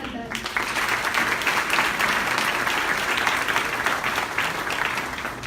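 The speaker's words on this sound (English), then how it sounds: "Please help me giving another round of applause for Ms. Haddad" Guests at a scholarship gala break into a round of applause for an honoree, the clapping starting abruptly and staying dense and even, with some talk mixed in.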